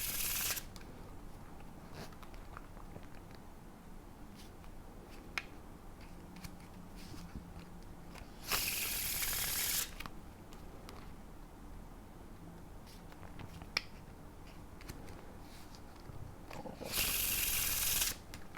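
A deck of cards is Faro shuffled over and over, soft riffling and tapping interrupted by two louder bursts of cards zipping together, quiet and close with no talking.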